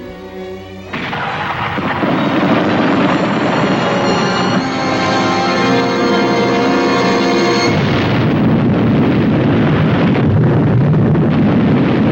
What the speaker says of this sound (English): The killer became the killed in one of the most awesome explosions this side of the atom.